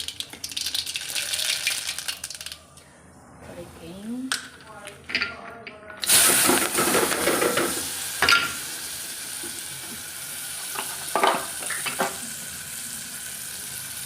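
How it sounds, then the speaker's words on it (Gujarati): Mustard seeds hit hot oil with a sudden loud burst of sizzling crackle midway through, which then settles into a steady fry; a voice and some quieter kitchen noise come before it. "તેલ થઈ ગયું છે તો તેલમાં નાખી દઉં રાય"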